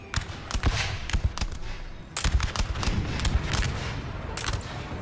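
Skirmishers fire muskets in Napoleon Total War, a steady ragged crackle of shots rolling in uneven bursts throughout, some sharper and closer, others softer and distant.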